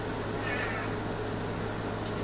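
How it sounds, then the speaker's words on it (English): A pet cat crying with a brief meow under steady background noise, faint and close, in a home kitchen setting. "my kitty cat's crying"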